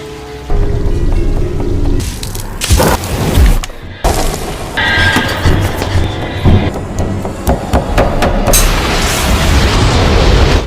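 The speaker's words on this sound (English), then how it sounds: "The stove in the kitchen suddenly explodes, startling Sydney." In a horror film scene, a kitchen stove suddenly explodes with loud, heavy booms and crashing, clattering debris. Rumbling, metallic noise continues over several seconds.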